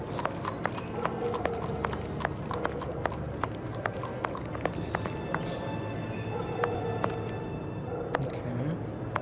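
Horse hooves clip-clopping in a Sherlock Holmes video game, a steady brisk rhythm of sharp clops at moderate distance over a soft background bed, with no visible hooves.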